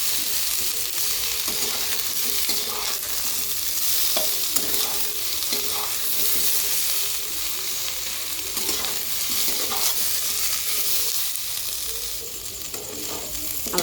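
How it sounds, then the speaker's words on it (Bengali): Ginger garlic paste frying in a pan for Bengali ghugni, a bright continuous sizzle with frequent scraping and stirring strokes of a spatula, close and steady throughout with no talk. "তো ভালো করে আদা রসুনটাকে কষে নেব, যাতে আর না আদা রসুনের গন্ধ ছাড়ে"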